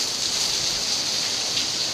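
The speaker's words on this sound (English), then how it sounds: "It wasn't raining 2 seconds ago." Drizzling rain in a winter storm in Scottsdale falls as a steady, dense hiss, close and fairly loud throughout the short stretch, with no voices.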